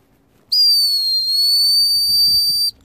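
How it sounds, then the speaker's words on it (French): A single loud, shrill whistle blast for recalling a dog holds steady for about two seconds, close by, with faint background noise before and after. "avec les sifflets."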